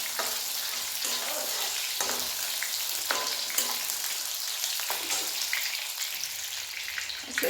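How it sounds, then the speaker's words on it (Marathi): Soybean chunks frying in hot oil over a full flame for soybean bhaji, giving a steady crackling sizzle with occasional stirring clatter, close and fairly quiet, with no voices. "आता तेल तापले, आपलं सोयाबीन टाकू आपण. थोडं थोडं तळून घ्यायचं आपल्याला."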